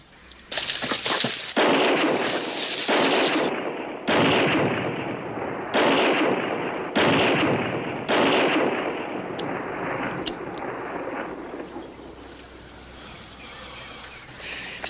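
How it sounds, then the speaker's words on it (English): Gunshots fired into the air in an old western TV series: a series of loud booming shots spaced a second or two apart, each with a long echoing tail, fading to quieter background sound toward the end. "He's not even shooting at us, Pa. He's firing in the air."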